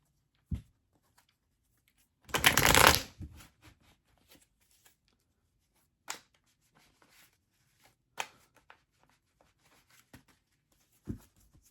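Tarot cards get shuffled in one brief, close burst of riffling, followed by scattered soft taps and card clicks in an otherwise quiet room.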